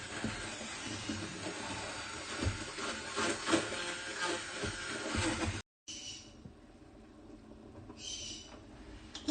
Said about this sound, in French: je vais mixer ma sauce.